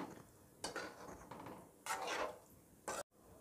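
A spoon clanks and scrapes in a cooking pot while stirring eggplant curry (ennai kathirikkai kuzhambu) after tamarind water is added, three distinct quiet metallic strokes with soft pauses between.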